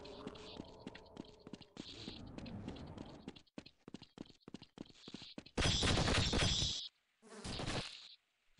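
Flies buzz in the Half-Life game, with a whiny hum in short bursts, some loud and close, mixed with rapid clicky ticking and sharp percussive crackles.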